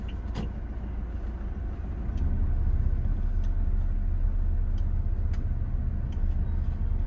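A 2022 Toyota Innova 2.4 G with a manual gearbox pulls away as the clutch is released, its low engine rumble swelling after about two seconds and holding steady with road noise inside the cabin.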